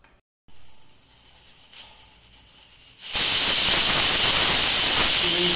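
Low kitchen sounds give way to a pressure cooker of mutton masala bursting into a loud, continuous steam-whistle hiss that runs close and steady to the end.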